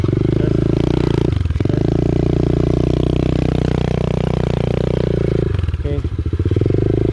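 A mini trail motorbike revs hard as it climbs a steep dirt trail, its loud, close engine droning steadily with throttle swells and brief dips, while a few short spoken words come through.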